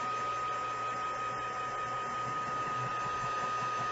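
A heat gun or hair-dryer-style tool blows steadily over wet paint on an old wooden board for a faux dip-dye finish, a continuous even whir with a faint tonal whine, close and alone.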